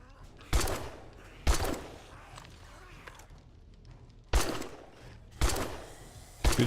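Gunfire in the survival video game 7 Days To Die, five sharp, loud shots spaced irregularly over several seconds, with a low rumbling game background between them.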